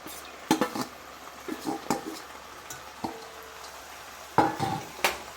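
Khaman being added to a pot of boiling sweet liquid for sev khamani and stirred with a metal spoon: several close clinks and scrapes against the pot, spaced out, with no talk.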